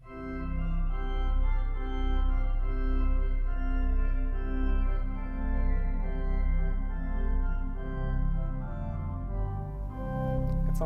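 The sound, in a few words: 1906 Felgemacher pipe organ, 8 foot stop diapason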